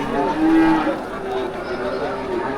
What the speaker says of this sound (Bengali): লাইন দিয়ে শুধু গরু আর গরু এটা কিন্তু সম্পূর্ণ একটা গরু হাট